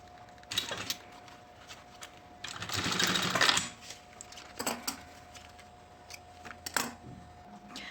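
Sewing machine backstitching to lock a seam along a zipper on a synthetic-leather school pencil case, a dense burst of stitching near mid-clip with shorter clicks and handling noises before and after.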